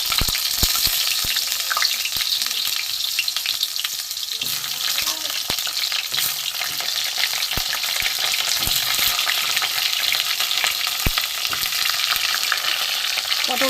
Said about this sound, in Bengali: এখানে পটলগুলো আমি ভেজে নেব।